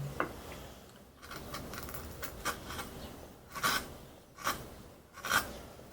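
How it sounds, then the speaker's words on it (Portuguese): A gouge cuts into a printmaking matrix in Afro-Amazonian printmaking, giving soft raspy scraping with a few sharper gouging strokes that grow louder toward the end, close by and faint, with no talk. "Aqui já vai fazer outro tipo de desbaste."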